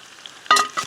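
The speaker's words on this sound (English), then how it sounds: "we got some sizzling going on right now" Deer tenderloin sizzles in seasoned oil, a steady low frying hiss that swells into louder bursts of crackle near the end.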